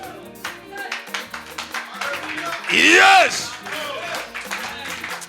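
A church congregation applauds in scattered rhythmic claps under an ongoing sermon voice, with a loud burst of cheering swelling at the midpoint before the clapping continues beneath speech.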